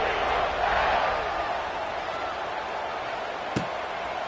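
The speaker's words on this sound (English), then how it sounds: "this crowd is buzzing after that last score." Stadium crowd in the College Football 26 video game, a steady loud roar of cheering fans after a score, holding constant throughout with a single sharp thump near the end.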